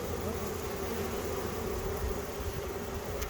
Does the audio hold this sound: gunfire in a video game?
no